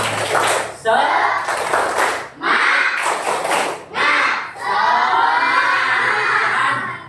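Students in a classroom perform a rhythmic spirit-clap ice-breaker: repeated bursts of loud group clapping in patterned sets, separated by brief pauses, with voices chanting along and a final longer, cheering round.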